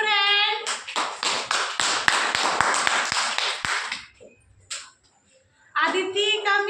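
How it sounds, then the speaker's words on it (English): Hands clapping sharply in a quick run of distinct claps mixed with a voice, close and loud, then a brief pause before a child's singing-like voice returns. "Clap your hands."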